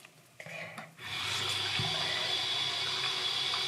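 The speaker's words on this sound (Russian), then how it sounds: "Открывай воду." Water gushes from a household tap, starting after a few soft knocks and then running steadily and loudly, close by, with no talking.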